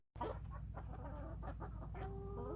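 Chickens, a group of hens with new chicks, clucking steadily nearby, with short rising calls and squawks over a low constant background hum.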